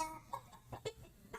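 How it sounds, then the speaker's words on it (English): Chickens cluck in a few short, separate bursts, fairly faint and close by, with quiet gaps between calls. "Leave the chickens alone."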